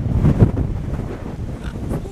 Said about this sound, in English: Oh, it's gusting again. It's gusting.